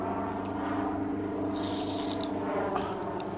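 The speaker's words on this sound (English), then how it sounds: "That's the pulley system that I have." A homemade pulley system drags a solar cover across a 24-foot round pool, giving a continuous mechanical whir with faint ratcheting and clicking throughout, close and steady with no talking.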